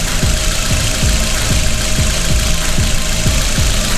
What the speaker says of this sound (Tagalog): smooth na uli yung takbo ng ating makina